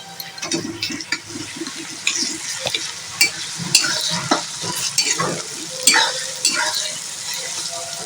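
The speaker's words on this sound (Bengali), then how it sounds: "পেঁয়াজটা আমার ব্রাউন কালার করে ভাজা হয়ে গেছে আর আমি এর উপর দিয়ে দিচ্ছি রসুন বাটাটা" Browned onion sizzling in a pan as garlic paste is added for a yogurt chicken dish, with steady frying crackle, scraping stirs and occasional utensil clinks close up.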